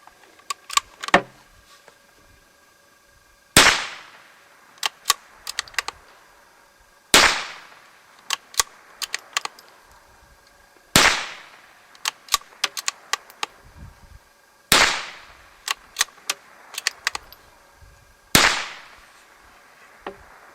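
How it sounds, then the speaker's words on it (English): Sharp unsuppressed .22 rifle shots crack out at night, a series of loud single reports spaced a few seconds apart, each followed by quick clicks and small clatters. "Now we're going to fire it unsuppressed."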